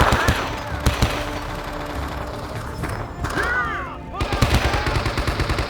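Sustained automatic gunfire with dense, rapid shots raked across a tree line in a Vietnam War combat video game, loud and continuous with brief lulls and a faint shout mixed in.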